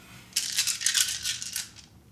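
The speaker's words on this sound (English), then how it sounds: "roll my dice." Dice rolled for the Ashes Reborn tabletop card game give a quick clattering rattle of small taps that lasts about a second and a half, then dies away, close and alone.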